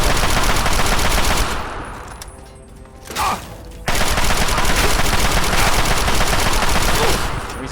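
Assault rifle fire from the video game Fallout 3 comes in loud sustained automatic bursts, with a short lull and a lone shot before firing resumes.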